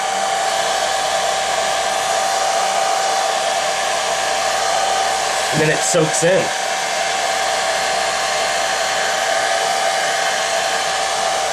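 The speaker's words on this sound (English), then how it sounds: "go ahead and hit it with dryer" A hair dryer blows with a loud, steady whoosh and constant whine throughout, heating a gun treated with Militec-1, while someone speaks briefly midway beneath the noise.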